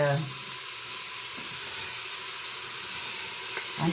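Ground beef browns in a warming Instant Pot, giving off a broad, even sizzling hiss that holds steady from start to finish, with faint voice traces at the edges.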